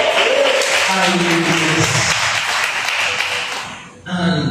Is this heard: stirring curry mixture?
no